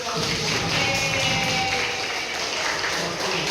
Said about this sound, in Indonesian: Kalau gitu tepuk tangan dulu.